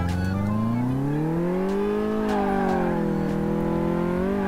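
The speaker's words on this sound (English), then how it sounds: "Yeah, so this car is pretty fast." In Car Mechanic Simulator 2018, a fast car accelerates hard, its engine note climbing steadily in pitch, then dipping slightly and rising again. The revving is loud, close and continuous throughout, with no talk over it.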